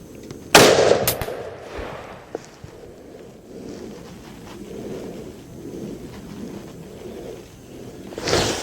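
A single loud rifle shot from a Ruger Model 77 MKII chambered in .264 Win Mag, a sharp close crack with a brief echo, then quiet outdoor ambience.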